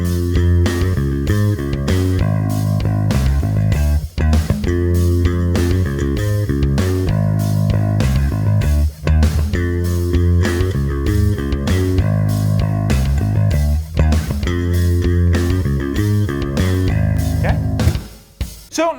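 Bass riff practice backing track at 98 BPM, a dense full-band groove with punchy rhythmic bass notes and drums driving steadily for the whole stretch, loud and continuous, a few brief dropouts near the end.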